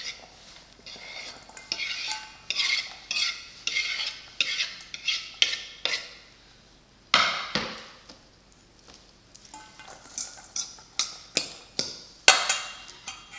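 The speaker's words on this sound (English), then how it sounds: "Mix those together." Chopped veggies being tossed together in a bowl for tuna and egg salad, a run of quick, rhythmic scraping and tapping strokes of a utensil, close and distinct, pausing briefly midway before resuming, with no talking.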